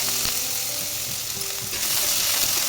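Onions frying with cumin and dried chillies in oil in a kadai, a steady loud sizzle with faint stirring scrapes, no talking.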